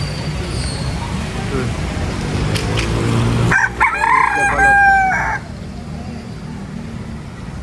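A rooster crows loudly and close at a busy chicken market in Padre Garcia, Batangas, one long call rising over steady crowd murmur, with someone speaking briefly beforehand.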